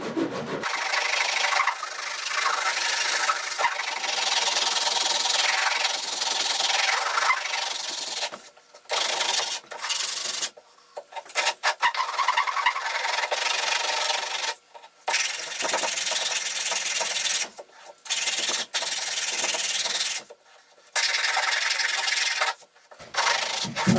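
A sanding block rubs against wood in long steady strokes, a broad hissing scrape close by that keeps going with short pauses between passes, no talking.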